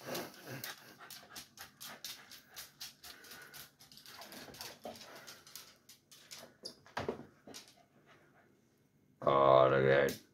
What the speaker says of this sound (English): Look at my dog down there trying to sniff it.